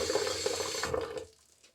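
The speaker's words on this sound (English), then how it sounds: "I feel like I need to get a little water into the brush here" Water from a tap runs in a steady splashing stream into a badger-hair shaving brush for about a second, then cuts off, leaving near silence.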